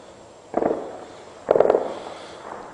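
Two bursts of rapid gunfire crackle in a shelled town, a short rattling volley and then a louder, denser one about a second later, heard at moderate distance with quiet background between.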